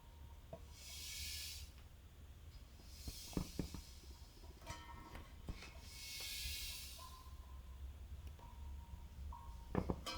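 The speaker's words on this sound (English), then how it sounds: "just flip it to one side and listen if there is debris inside the tank" Loose manufacturing debris slides and rattles inside a propane tank as it is tipped to one side, producing a few faint, drawn-out hissing rushes with scattered light ticks against a low background hum.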